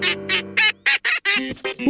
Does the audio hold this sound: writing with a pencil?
no